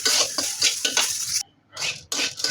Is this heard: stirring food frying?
yes